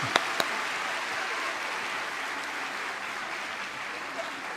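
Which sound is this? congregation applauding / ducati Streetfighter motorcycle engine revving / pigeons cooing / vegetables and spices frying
congregation applauding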